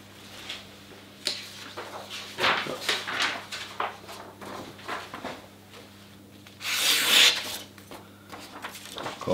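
Cloth rubs and wipes across a freshly sharpened super-steel knife blade to dry it, giving close, irregular scraping strokes with one longer, harsher swipe near the end.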